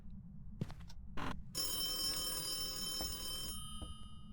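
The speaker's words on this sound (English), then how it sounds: "Phone call." A telephone rings in the ghost-hunting video game Phasmophobia, a sustained metallic bell trill lasting about two seconds, preceded by a few soft knocks and footsteps in a quiet room.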